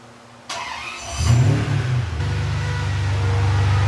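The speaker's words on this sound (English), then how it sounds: "And we need to get this car fired back up." Ferrari 456 engine starting up: a starter whirs briefly, the engine catches with a rising flare, then settles into a steady, throbbing idle close by.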